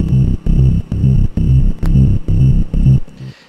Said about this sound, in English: Like this is just a simple rolling bass.